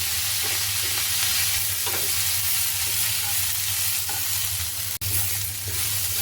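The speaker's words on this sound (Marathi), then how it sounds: "ह्याला चांगलं भाजणार आहोत कांदा लालसर गुलाबी होईपर्यंत आपल्याला भाजायचा आहे" Onions frying in a pan until reddish pink, a steady dense sizzle with occasional stirring scrapes and one sharp click, close and continuous without any talking.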